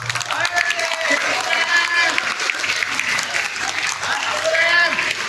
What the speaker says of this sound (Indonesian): tepuk tangan yang berikut.